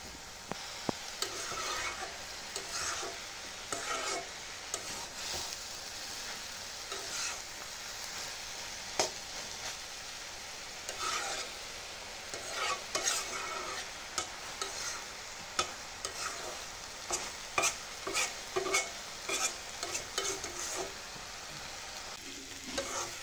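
Water spinach is stir-fried in an uncovered pan, giving a continuous moderate sizzle with frequent scraping and clinking strokes of a utensil against the pan throughout.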